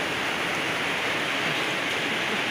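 Heavy tropical downpour on the road from Gowa toward Bulukumba makes a dense, unbroken hiss of rain, loud and close, steady throughout with no voices.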